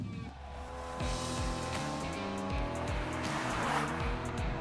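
A 2024 Mercedes-AMG GLE 53 Coupe accelerates hard, its engine note climbing in repeated rising sweeps through several gear changes, loud and steady, with wind and road noise underneath.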